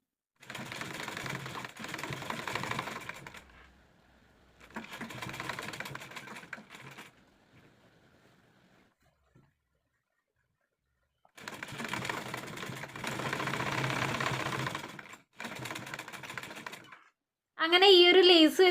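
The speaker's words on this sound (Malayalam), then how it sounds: "നമുക്കങ്ങ് സ്റ്റിച്ച് ചെയ്ത് പോവാം കേട്ടോ." A sewing machine stitching a neck design with lace onto a frock or nighty fabric, running in several loud bursts of rapid mechanical whirring separated by pauses, with a brief sharper noise at the end.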